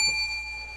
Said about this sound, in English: And Ring my bell, Doug.